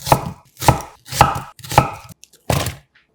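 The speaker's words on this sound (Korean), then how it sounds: "양파 1개도 큼직하게 썰어 담아주세요" A knife chops an onion into large pieces on a cutting board, giving five firm, evenly spaced thuds close by, with a brief pause before the last one.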